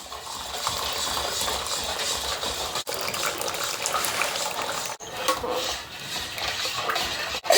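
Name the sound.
straining hibiscus syrup, liquid pouring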